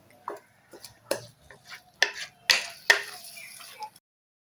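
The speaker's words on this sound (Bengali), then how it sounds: "এভাবে এখন আমাকে নেড়ে নেড়ে এটাকে বানাতে হবে" A spoon stirs a sticky coconut sweet mixture in a pan over medium heat, giving a series of irregular scraping and tapping strokes, close and fairly quiet against near silence.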